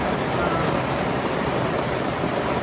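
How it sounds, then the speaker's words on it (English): Heavy rain falls steadily around a moored boat on the River Waveney in the Norfolk Broads, a dense, continuous hiss and patter on surfaces close by, loud and unbroken with no voices. "As you can hear, the rain is actually getting worse."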